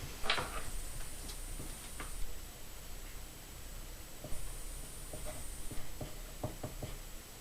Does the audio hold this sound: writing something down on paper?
yes